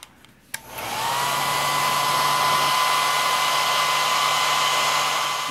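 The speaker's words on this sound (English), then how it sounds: "let's use the dryer" A hair dryer clicks on and whirs at a steady, loud, continuous blow while drying a fog lamp, its motor whine holding constant close to the listener, with no talking.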